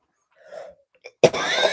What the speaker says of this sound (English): it catches me in the middle of a sneezing, coughing, general face expulsion